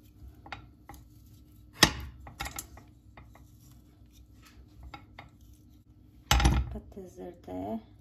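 A knife chops potatoes lengthwise into halves on a kitchen board, with a few sharp, separate knocks and some light clatter of dishes and utensils between them.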